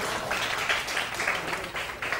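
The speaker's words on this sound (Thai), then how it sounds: "give him a big hand" Students in a Thai secondary-school English class clap for a classmate who answered correctly. It is a short, steady burst of many hands clapping together in a room.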